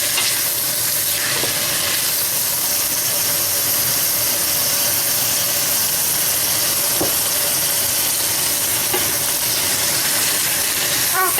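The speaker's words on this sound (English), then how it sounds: "I'm going to be searing the beef" Beef sears in a pan for a herb stew, giving a steady, dense sizzle and hiss that holds evenly throughout with only faint clinks.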